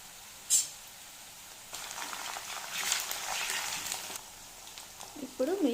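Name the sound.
onions frying with ginger garlic paste for tomato rice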